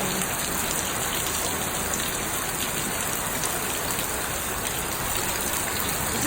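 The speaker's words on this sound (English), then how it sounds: "Is it raining?" Steady rain falling outdoors, an even, moderately quiet hiss of drops that holds unchanged throughout with nobody speaking.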